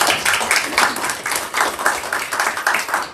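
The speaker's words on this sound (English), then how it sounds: "So y'all give her a round of applause." Applause at a state legislative committee meeting for a staff member, with steady, moderately loud rhythmic clapping from a small group in a hearing room that lasts the whole stretch without speech.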